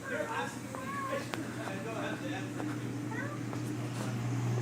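A voice makes a few short meow-like calls imitating a cat over steady background hum and music, with occasional clicks.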